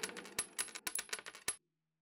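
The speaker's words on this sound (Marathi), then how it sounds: "त्याच भांड्याने त्यांनी नाणी मोजायला सुरुवात केली" Coins clink as they are counted out, a quick run of about a dozen sharp metallic chinks in an uneven rhythm, close and alone, followed by silence.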